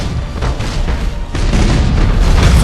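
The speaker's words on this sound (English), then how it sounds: "We should keep our distance from the enemy ship, sir. It will soon explode." A huge ship blows apart in the space strategy game Battlefleet Gothic Armada, a loud, sustained rumbling detonation with crackling debris that swells again midway and roars on to the end.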